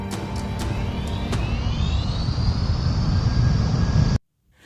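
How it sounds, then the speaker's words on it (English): An aircraft sound effect swells as the craft arrives for an airlift, a steady engine roar with a rising whine that cuts off abruptly near the end. "We're gonna airlift Ultra Magnus out of here."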